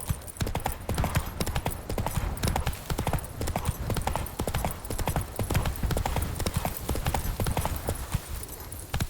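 Fast galloping hooves of a horse in The Witcher 3, a dense, continuous pounding rhythm that stays loud and close throughout, with little else over it.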